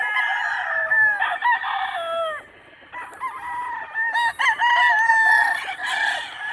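Brown Gray gamefowl stags crow repeatedly nearby, loud drawn-out cock-a-doodle calls overlapping one another with brief clucks between, set among other roosters on a farm.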